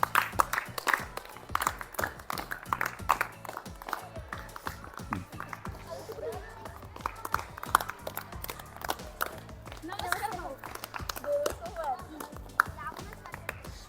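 Schoolchildren clapping together during a classroom game, a fast, uneven run of many hand claps that keeps going, with children's voices talking and calling over it.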